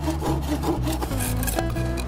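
A rusty hand saw cuts through thick bamboo in steady, rasping back-and-forth strokes, loud and close, with no voices.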